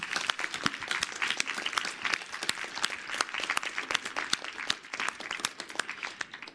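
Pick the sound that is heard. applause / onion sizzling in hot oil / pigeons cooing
applause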